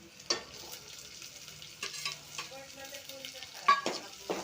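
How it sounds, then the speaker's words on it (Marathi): Onion frying with chillies in a pan for mugachi dal, with intermittent scraping stir strokes and short bursts of sizzle, fairly close and quiet. "मिरच्या लाल झाल्यानंतर कांदा टाकणे."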